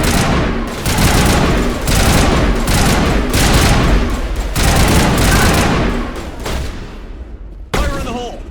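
Sustained loud shootout in Mass Effect: dense overlapping gunfire and booms roll on for several seconds, then thin out into scattered shots and a final sharp burst near the end.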